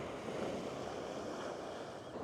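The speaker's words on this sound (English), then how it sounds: "And you can see right here, the Pacific Ocean is coming right up to my feet. You can hear the waves." Pacific Ocean waves break on a beach in a steady, continuous wash of surf, fairly faint and with some wind noise, and no voices present.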